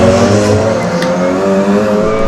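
Race car passing at a hillclimb event, a loud, steady engine note held throughout with a faint tyre squeal, close and alone with no talk over it.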